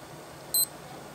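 A G-Shock G-7900A digital watch gives a single short, high-pitched electronic beep from its alarm function, crisp and close against quiet room background.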